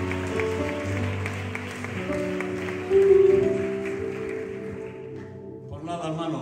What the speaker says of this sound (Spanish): Ese fuerte aplauso, si es para él, en esta tarde.